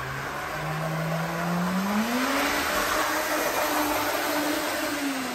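An Athearn Blue Box CN U33C model locomotive races fast around its track on freshly lubricated gears, making a loud, steady motor whine and buzz whose pitch climbs partway through.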